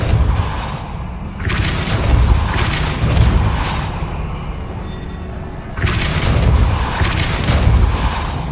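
Depulso spell bursts in Hogwarts Legacy, heavy booming blasts with whooshing impacts, a cluster early and another after a quieter gap, loud and close.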